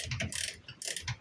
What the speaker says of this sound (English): we've got an 11/16 ratchet wrench here